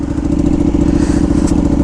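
Ducati Panigale V2 motorcycle fitted with a Vandemon full exhaust and dB killers, engine running loud and close in a steady throbbing rev with rapid pulsing firing rhythm throughout.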